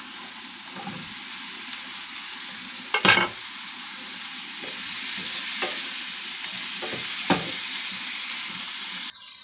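Potatoes and tofu fry in a hot pan, a steady loud sizzle broken by several scraping stirs of a spatula, one stronger clatter early on, then cutting off abruptly at the end.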